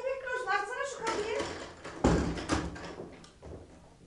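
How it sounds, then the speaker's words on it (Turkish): Radio drama sound effect of a house door being opened after a burglary, with a sharp knock of the latch and creaking movement, mixed with people talking. "Açsana şu kapıyı."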